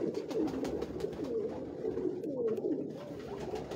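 An old-breed pigeon coos in a steady, rolling series of low throaty notes, close and continuous, with no talking.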